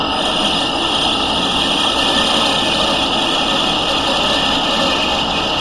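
A lathe turns steadily through a cutting pass, giving a continuous, even mechanical hum and whine with no change in level and no voices.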